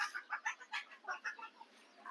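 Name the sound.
hens clucking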